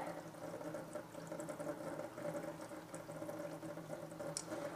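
Water runs steadily from a drain tap on a Peugeot 309, a continuous close, moderate gushing and trickling that holds even throughout without pauses.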